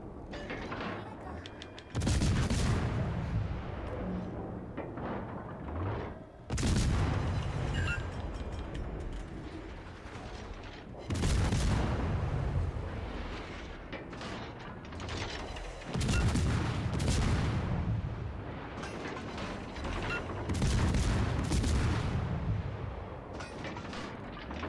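Warship main-gun salvos firing in World of Warships: Legends, about five heavy booming volleys spaced several seconds apart, each with a sharp attack and long rumbling decay, loud and close.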